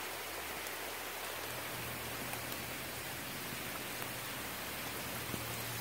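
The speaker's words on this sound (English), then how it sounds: "I don't want to go out in the rain" Steady rain falls outside during a flood warning, a continuous even hiss with no distinct drops standing out and no voices.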